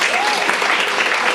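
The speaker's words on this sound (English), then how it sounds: "Just applaud." Audience applause in a room at an author's reading event, a dense, steady clatter of many hands clapping together for the whole short stretch, loud and close.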